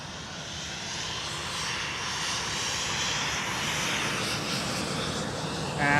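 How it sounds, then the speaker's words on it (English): A KLM Boeing 737-700 jet airliner at Schiphol roars steadily, the broad jet-engine rush swelling slightly as it passes, fairly near and without talk. "And another 737-700 KLM"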